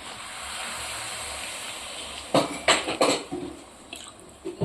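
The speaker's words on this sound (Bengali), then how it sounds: "এটা ভালোভাবে কষা হয়ে গেলে এতে আমরা জল অ্যাড করে দেব" Water pours into a pot of yellow peas ghugni with a steady hiss, followed by a few close clanks of a utensil against the pot.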